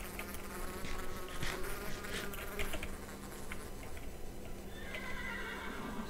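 A horse in the Minecraft video game neighs amid a buzzing drone of bees, fairly faint, with no talk over it.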